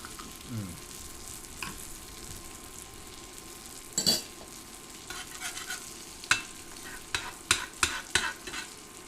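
Soft, steady frying sizzle in a pan on an induction burner, fairly quiet, with a few sharp clinks and stirring scrapes of a utensil over it.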